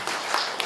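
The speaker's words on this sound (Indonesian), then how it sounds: "Luar biasa tepuk tangan semua ya" Brief, dense clapping from a congregation at a wedding service, a steady wash of many hands heard up close for well under a second.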